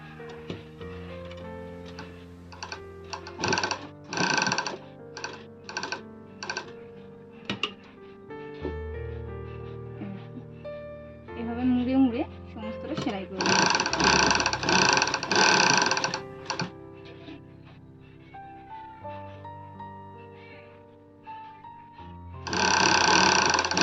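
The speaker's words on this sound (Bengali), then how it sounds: "এই মুখ থেকে কিন্তু সেলাই করবো এই ধাপটাও কিন্তু সেলাই করে দেবো" Domestic sewing machine stitching the collar of a nightie, a steady mechanical ticking whir that runs in stretches, speeding up and stopping, with soft handling sounds in the pauses and no talk.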